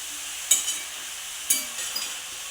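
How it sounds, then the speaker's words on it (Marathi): Fenugreek leaves are stir-fried in a kadhai with a steady soft sizzle, broken by two or three brief scraping strokes of the spatula against the pan. "आणि याला चांगलं मिक्स करून घेऊया परतून घेऊया"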